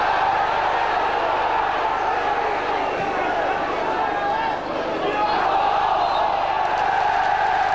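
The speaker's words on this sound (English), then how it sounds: "Ironic applause now around the racecourse." A football crowd at Wrexham's Racecourse Ground gives ironic applause during the 1999 FA Cup third-round match against Middlesbrough, a loud, continuous wash of crowd noise and clapping that fills the stadium with little change.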